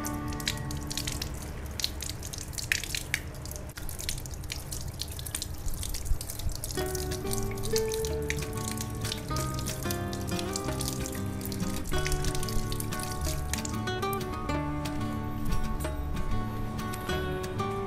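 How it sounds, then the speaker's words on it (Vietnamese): Water runs steadily as an orchid is rinsed, with dripping and splashing close by and changes in the flow along the way. "Sau đó các bạn rửa cho thật sạch."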